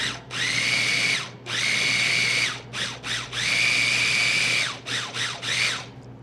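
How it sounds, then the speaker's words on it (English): A small electric mini food processor grinds mangoes in short and long motor bursts, a loud high whine starting and stopping about eight times, close. "I have a little mini food processor because it's easier to carry around with me"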